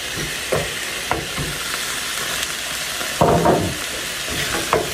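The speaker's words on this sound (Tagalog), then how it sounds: "Hayaan muna natin ma-roast ng konti yung ating tomato paste to reduce the acidity ng ating tomato" Tomato paste roasting in a hot pan with a steady close sizzle and hiss, punctuated by several brief scraping stirs.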